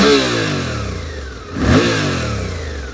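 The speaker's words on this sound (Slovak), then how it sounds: "motor je aj hodne točivý, veľmi ľahko a ochotne ide do otáčok" A 2023 Suzuki V-Strom 800DE motorcycle engine idles steadily, then rises in a quick rev around the middle and settles back into a low, throaty hum.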